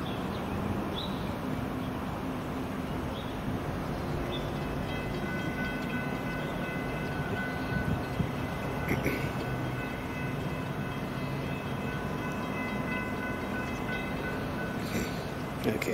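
A Brightline passenger train, trainset BLF702, runs along the FEC railway in Florida, making a steady, loud rolling rumble with rail clatter that lasts throughout. Faint tonal horn-like notes rise now and then above the noise.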